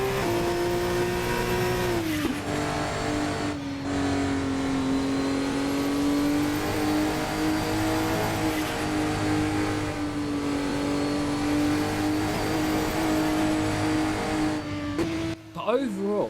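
Sustained, steady engine note from an F2 2024 race car in a racing video game, holding a fairly even pitch with a brief dip near the start and a sharp drop at the end, sounding slightly dull and muffled; a voice talks over it.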